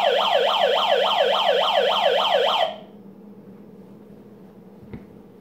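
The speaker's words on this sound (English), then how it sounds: "That's a good, powerful siren." A Life Gear hand-crank emergency light sounds its siren indoors near a stove: a loud, rapidly warbling electronic wail that rises and falls steadily for a few seconds, then cuts off, leaving quiet room noise and a small click.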